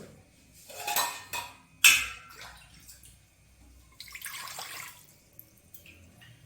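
Water poured into a pressure cooker set on a stove, heard as a couple of short splashing bursts with metallic clinks of the pot, then a longer trickle, fairly close and with no voices.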